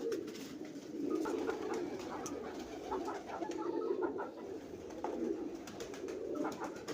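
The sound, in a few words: teddy pigeon pair cooing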